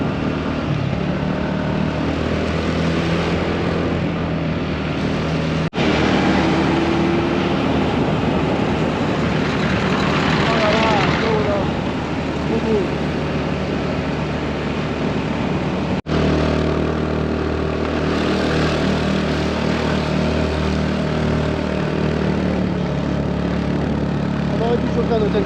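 A scooter engine while riding in Pokhara, Nepal, drones steadily for the whole stretch, mixed with rushing wind and road noise, and people talk now and then over it.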